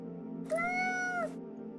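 A ginger cat gives a single clear, close meow of just under a second, standing alone against a faint steady background hum.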